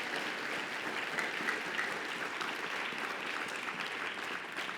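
A church congregation claps together in steady, sustained applause during a Spanish-language sermon, a dense crowd sound with no speech over it.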